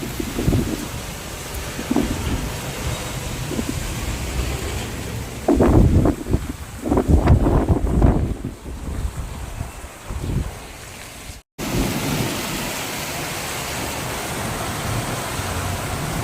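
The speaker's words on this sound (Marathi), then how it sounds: "फायनली हे बघा, इकडे पाऊस आलेला आहे." Rain falling outdoors during a thunderstorm, with a steady wash of rain and wind noise on the microphone and a cluster of louder rumbling bursts partway through.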